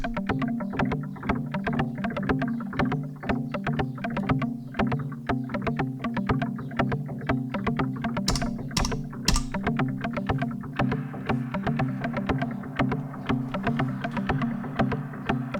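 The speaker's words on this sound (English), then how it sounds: "it creates something that it sounds very gamelan" Rapid, steady metallic pulses from a Nord Drum 2 sequenced by a Torso T1 ring out in a dense, looping pattern, bell-like and gamelan-flavored, with a few brief bright bursts midway.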